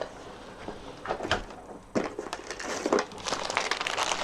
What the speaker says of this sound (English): I'm going to use tape for the next bit